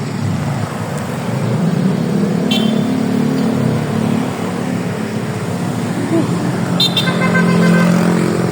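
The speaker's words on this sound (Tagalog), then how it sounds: "Traffic guys. Papuntang Katipunan." Road traffic on Carlos P. Garcia Avenue heading toward Katipunan: a steady wash of car and motorcycle engines close by, with two short horn toots cutting through the middle and near the end.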